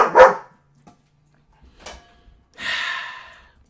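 A pet dog barks nearby in a basement room, one sharp loud bark, then a short softer yip, and finally a longer breathy, huffing vocalization, with near silence between.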